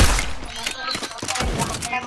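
Rapid bursts of Vector submachine-gun fire from the Free Fire video game crackle in quick succession, loud and sharp, with a voice faintly mixed in.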